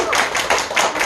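An audience claps at a Korean church testimony talk by a comedian, with a short burst of a few crisp overlapping hand claps in rough rhythm, fairly close and loud.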